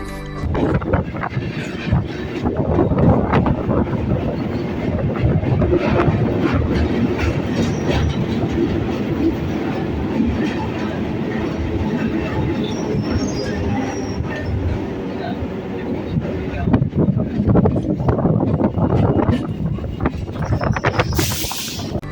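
A passenger train runs steadily from Ranaghat toward Shantipur, its wheels clattering over the rails in a continuous, loud rumble, with brief squeals of wheels along the way.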